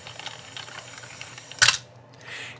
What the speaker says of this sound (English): that sound that you probably just heard as the film came off of the take-up spool is audible outside of the camera